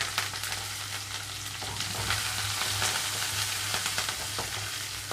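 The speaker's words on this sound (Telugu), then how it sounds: "ఉల్లిపాయ సాఫ్ట్గా వచ్చే వరకు కొంచెం వేయించుకోవాలి" Onions, green chillies and curry leaves fry in oil in a pan for Andhra-style rasam, giving a close, continuous sizzle with scattered crackles and stirring scrapes over a low steady hum, with no talking.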